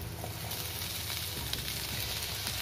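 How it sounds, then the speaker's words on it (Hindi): Onion and tomato sizzle steadily in hot oil in a pan while a spicy soya chunk masala is cooked; a loud, continuous close frying hiss with faint stirring clicks. "अब एक एक करके हम इसे फ्राई कर लेंगे।"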